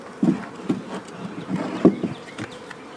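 Honeybees swarm around an open hive in a low, steady buzz, with louder close passes as bees fly near, and no talk.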